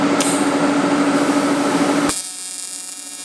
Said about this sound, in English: Drill holes. Yeah, it's not very thick wall stuff.